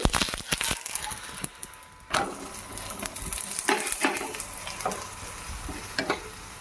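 Sweet potato bobbatlu fry in ghee on a pan with a steady close sizzle, broken by a few sharp scrapes and clatters as they are turned.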